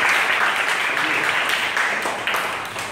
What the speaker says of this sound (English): give your partner a round of applause